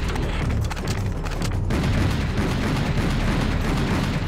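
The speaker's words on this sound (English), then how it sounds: "Oh, that one shoots rockets." In the Serious Sam HD video game, an enemy fires rockets: loud continuous rumbling blasts and booms with crackling bursts, dense and close throughout.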